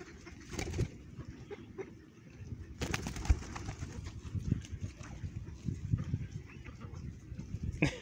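Pigeons gather close by, soft throaty coos repeating under sudden loud bursts of flapping wings, with a person talking quietly among them.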